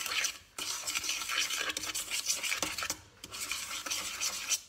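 Fromage blanc, baker's yeast, baking powder and sugar are mixed together in a bowl, making busy scraping and stirring strokes with short pauses and no talk.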